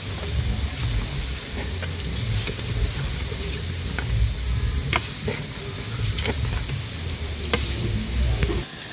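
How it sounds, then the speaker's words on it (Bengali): A ladle beats jaggery pitha batter in a bowl for a few minutes, making a steady wet churning swish with faint clicks of the ladle against the bowl, close and continuous. "ব্যাটারটা খুব ভালোভাবে কিন্তু 2-3 মিনিট ধরে হাতার সাহায্যে ফেটিয়ে নিয়েছি।"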